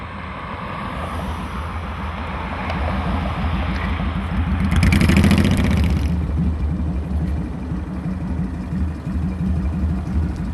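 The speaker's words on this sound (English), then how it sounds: "has an extremely pleasing exhaust note" A motorcycle engine runs with a deep, throbbing exhaust note that swells louder midway and then settles back, steady and close.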